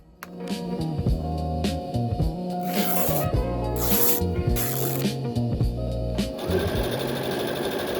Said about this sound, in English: I'm gonna use my ruffle foot on my machine